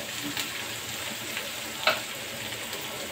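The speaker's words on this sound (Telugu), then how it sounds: "కొత్తిమీర 1 కప్పు వేసి వేయించుకోవాలి." Fenugreek, mint and coriander leaves fry for biryani in a pan, giving a steady hissing sizzle throughout with one brief clink of a utensil midway; no voices.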